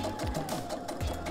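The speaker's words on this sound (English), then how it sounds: "I think I'm just going to sew through because this is going to be stitched." A sewing machine stitches through a fabric pot holder in a short, close burst of rapid mechanical needle thumps over a steady motor whir.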